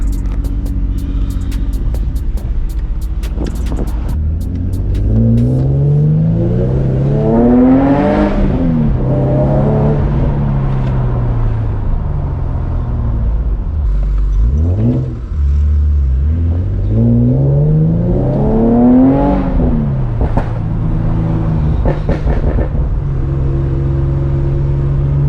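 An Infiniti G37 revs hard through repeated rising pulls toward an 8500 RPM redline, the engine climbing in pitch, easing off, then climbing again, loud and close from inside the car.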